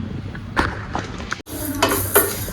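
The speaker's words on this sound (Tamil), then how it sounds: "களி வந்து இப்படி ஒரு பேனில் போட்டு லைட்டாக பொரிய அரிசி மாதிரி வச்சுக்கணும்" Rice for kali is dry-roasted and stirred in a pan at home, giving scraping, rustling stirs with a light sizzle in short bursts, close and moderately loud.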